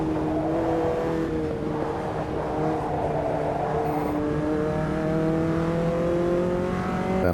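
A Formula Inter race car engine in Automobilista 2 drones steadily and loudly throughout, its pitch climbing gradually as it accelerates through gears, with no talking.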